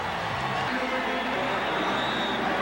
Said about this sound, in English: Listen to the crowd as we go to commercial